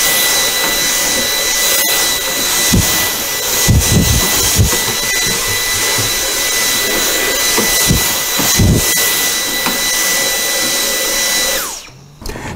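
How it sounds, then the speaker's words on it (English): Dyson vacuum cleaner running continuously with a loud, high whine while cleaning the air filters of an ARC-14SH air conditioner, its pitch shifting as the nozzle bumps and moves, then cutting off at the end. "So really make a deep clean of this one and use your Dyson."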